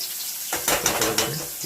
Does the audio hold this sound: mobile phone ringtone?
no